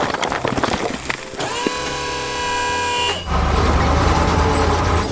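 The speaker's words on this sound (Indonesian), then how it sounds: "Truk biru melaju kencang membawa beban berat." A blue 3D-animated truck hauling a heavy load roars past fast, a loud sustained engine drone with a long steady horn-like tone in the middle before the rumble swells again, heavy and close.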